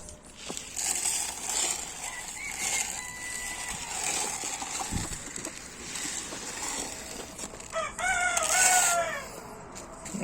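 Leghorn chickens clucking in a garden, with a rooster crowing loudly near the end and scattered rustling and clatter around the birds.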